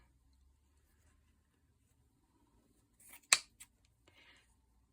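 A single short scissors snip through a piece of skirt fabric, a crisp close cut in otherwise near silence, followed by a couple of faint small rustles.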